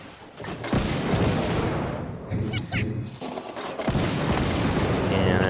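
Warship gunfire in the naval video game World of Warships Blitz, in a USS Cleveland battle against an Edinburgh: loud, dense volleys of booming cannon blasts and crashing impacts that roll on almost without a break.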